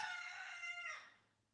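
A rooster crows loudly and close by, one long drawn-out call that holds steady before trailing off into quiet, with no talking over it.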